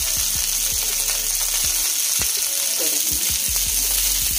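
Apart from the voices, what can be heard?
broccoli frying in a pan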